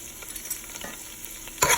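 Garlic and homemade Haitian épices spice blend being stirred in a pot over medium-high heat, a soft sizzle with scraping stirs and a louder burst of stirring near the end.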